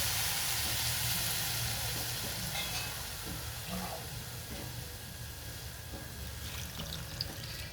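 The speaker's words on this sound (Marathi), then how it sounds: "पाणी ओतायचं" Water pours steadily into a cooking pot of soaked whole masoor lentils on a low gas flame, with a soft, continuous splashing hiss, quiet and nearby.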